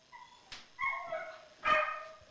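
A frightened dog barks and yips in a few sharp bursts with whiny tonal cries between them, close and clear in an otherwise quiet setting.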